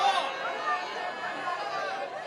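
A loud student crowd chatters and murmurs in a dense, continuous babble of overlapping voices, with no single speaker standing out across the whole stretch.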